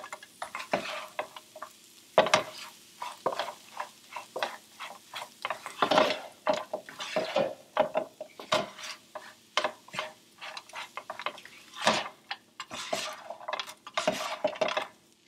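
Brussels sprouts coated in an oil mixture being stirred in a pan, with irregular scraping and clinking of a utensil against the pan and a faint sizzle underneath, no voices.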